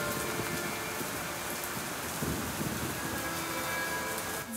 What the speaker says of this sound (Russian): И тут дождь идет в Вильгарте.